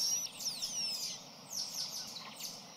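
High, quick chirps and sliding whistles repeat over a steady background hiss, fairly close and moderately loud.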